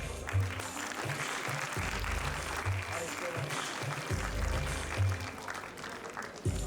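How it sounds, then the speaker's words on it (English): Audience clapping at a college award ceremony, steady moderate applause heard alongside low booming voice over a public address system as names are called. "You're going very slow on your claps."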